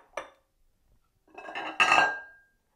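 Dishes clink and clatter as a serving dish is taken out in a home kitchen, one sharp knock followed by a longer ringing rattle of crockery after a pause.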